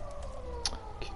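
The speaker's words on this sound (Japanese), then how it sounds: "救急車うるさいよ" A distant ambulance siren sounds faintly under a quiet backdrop, its tone holding level through a brief moment, with a couple of small clicks or knocks on top.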